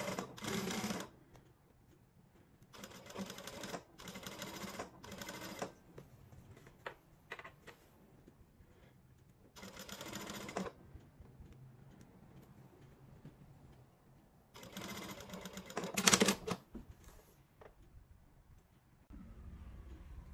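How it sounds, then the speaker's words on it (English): Sewing machine topstitching down a fabric placket, several close bursts of fast steady stitching separated by quiet pauses. "you're just going to sew down to where the opening is"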